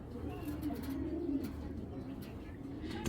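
Soft, low coos from red checker pigeons rumble steadily at moderate distance, with a faint murmur of background noise.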